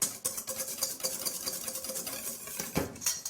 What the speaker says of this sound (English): we're going to add maple sugar little by little